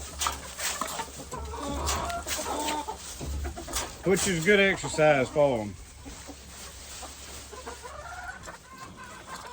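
Gamefowl chickens cluck and call near and far while scratching through fresh straw mulch in their pens for scattered feed, with someone talking over them.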